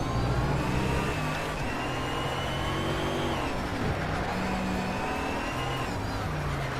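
A continuous roar of car engines from the racing game Shift 2, with steady, sustained tones that shift pitch as engines rev up and down, loud and close throughout.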